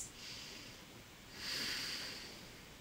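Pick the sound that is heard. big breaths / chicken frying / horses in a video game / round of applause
big breaths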